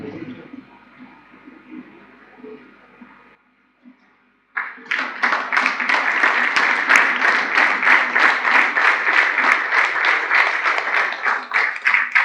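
Sustained audience applause fills a district governor installation ceremony hall, starting abruptly after a quiet murmur of voices and continuing loud and steady with dense rhythmic clapping to the end.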